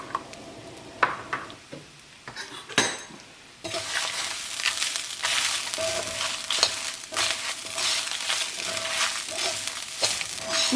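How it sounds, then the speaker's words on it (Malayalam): Grated coconut roasting over a low flame in a pan for onion theeyal, with a steady sizzling hiss and occasional scraping of a stirring spoon, close and continuous after a quieter start. "തേങ്ങ ഒരു ചെറിയ തീയിലിട്ടിട്ട് വേണം തേങ്ങ വറുത്തെടുക്കാൻ വേണ്ടിയിട്ട്"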